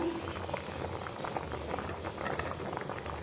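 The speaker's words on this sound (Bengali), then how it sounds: "সবজির সাথে ডালটা ভালোভাবে সিদ্ধ হয়ে গেছে" A pot of dal cooked with vegetables boils steadily, giving a soft, continuous bubbling and gentle popping at moderate closeness, with no voices.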